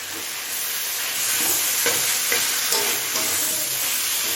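Ginger and garlic paste fries with tomato in a pan for a cabbage dish, a steady, close hiss of sizzling oil throughout, broken by a few soft stirring scrapes.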